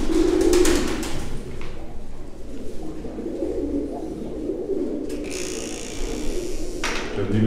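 Pigeons coo softly in low, throaty murmurs amid a busy background of rustling, scraping and occasional clatter, with faint voices now and then.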